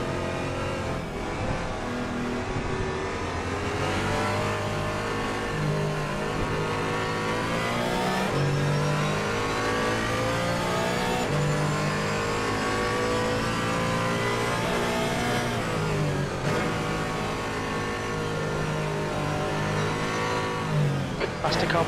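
Race car engines in Assetto Corsa Competizione during a multi-class endurance race at the Nürburgring, with steady loud engine drone, rising revs and gear changes throughout, and a faster car approaching from behind.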